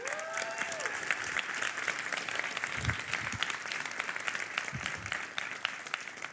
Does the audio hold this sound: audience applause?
yes